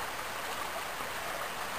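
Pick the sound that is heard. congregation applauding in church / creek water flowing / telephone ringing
creek water flowing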